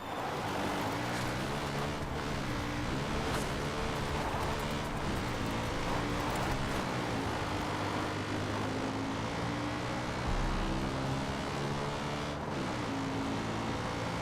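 A helicopter in Far Cry 5 gameplay drones with a steady loud engine and rotor roar that shifts slightly in pitch, heard continuously throughout without speech.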